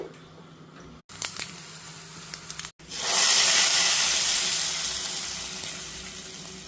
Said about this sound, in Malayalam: ഇനി നമുക്ക് ഇതിലോട്ട് കടുക് പൊട്ടിക്കാം